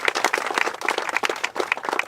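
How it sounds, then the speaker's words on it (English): Audience at a press conference applauding, a dense, steady patter of many hands clapping at once, fairly loud and close, with no talking over it. "I think we owe them a big round of applause for everything."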